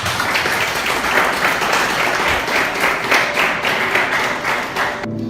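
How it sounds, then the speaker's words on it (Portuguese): A Pentecostal church congregation claps loudly and steadily together for over five seconds, a dense wash of many hands that stops abruptly at the very end. "Quem pode dar uma salva de palmas para Jesus?"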